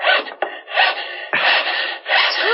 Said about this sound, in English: I overcut one of the shelves a smidge, so I'm backing it off with a wood rasp